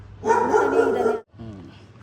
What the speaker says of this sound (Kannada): ಇಲ್ಲಿ ಕೂಡ ಒಂದು ನಾಯಿ ಫ್ರೆಂಡ್ ಆಗಿದೆ ಗೈಸ್